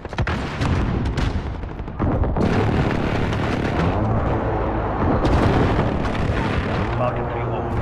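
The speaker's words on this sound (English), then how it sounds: "Enemy precision airstrike inbound." Precision airstrike explosions in Call of Duty: Modern Warfare, a string of heavy booms and rumbling blasts layered with gunfire, loud and continuous with brief gaps between the bursts.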